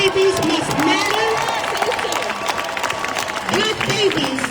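Outdoor rally crowd at a women's march applauding and cheering, steady dense clapping with whoops, while a speaker's amplified voice talks over the noise.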